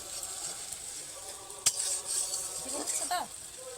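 Spices fry in a little oil in a pan with a low sizzle while a utensil scrapes and stirs them, including one sharp clink of metal against the pan; faint voices sound briefly in the background.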